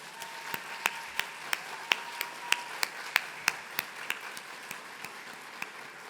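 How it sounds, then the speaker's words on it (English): Sparse, evenly spaced claps at a medical school white coat ceremony ring out sharply over a faint room hush, a few hands keeping a steady beat that thins out near the end. "Let's give them a round of applause."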